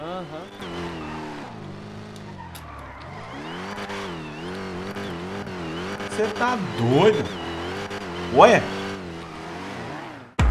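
A Dodge Dart fitted with a four-cylinder engine in the GTA RP driving game revs steadily with a droning, rising and falling engine note and brief tire squeals. Voices talk excitedly over it throughout.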